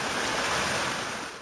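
Muddy water gushing steadily out of cracked ground beside a damaged badminton court amid land subsidence in Joshimath, a loud continuous rushing wash with no voices.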